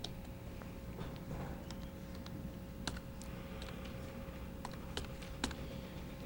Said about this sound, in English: Typing in the dark is not easy.